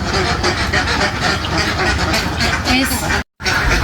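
A dense flock of white and brown egg-laying ducks at a duck farm in Pandanwangi, Tempeh, quacks continuously and loudly up close, with a brief dropout near the end.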